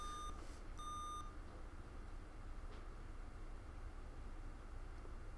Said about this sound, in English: It's got that same beeping sound.